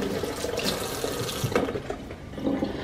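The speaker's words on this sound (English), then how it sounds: "Let me wash my hands off." Tap water runs into a kitchen sink while hands are rinsed under it, a continuous splashing hiss with small shifts and splatters as the hands move through the stream, close and alone.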